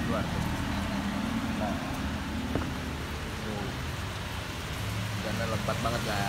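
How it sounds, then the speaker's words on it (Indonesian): Heavy rain falls outside at a street-food stop, a dense, steady hiss that fills the whole scene, with passing traffic rumbling underneath and a voice talking over it. "Lagi pada hujan lebat luar tuh."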